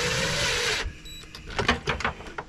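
A power tool driving screws into plastic underbody panels of a 2019-2022 Ford F350 DRW 6.7 L Power Stroke diesel, a steady whine that stops abruptly, followed by a series of short clicking ratchet-like bursts.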